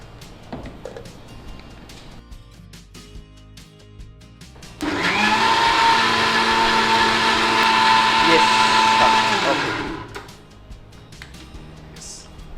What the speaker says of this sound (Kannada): ಸೊ ಇದನ್ನೊಂದು ಗ್ರೈಂಡ್ ಮಾಡುವ.